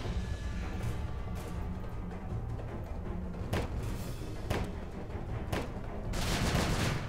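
A sniper rifle firing in the video game Starbound, several loud, sharp cracks spaced a second or so apart over a dense, rumbling background of battle noise.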